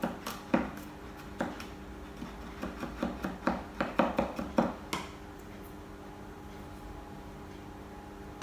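Knife finely chopping crushed garlic on a board, a run of quick, fairly soft taps in an irregular rhythm, with a busy cluster in the middle and a few scattered strikes after it, close by with no talk.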